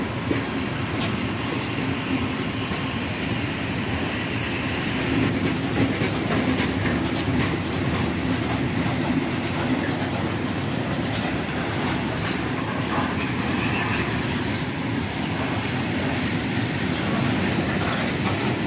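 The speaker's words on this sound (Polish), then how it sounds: "i teraz lokomotywa daje do pieca" A long freight train of dozens of wagons passes at an old railway station as its locomotive powers up, with loud, continuous rumbling and wheel clatter sustained throughout, close by.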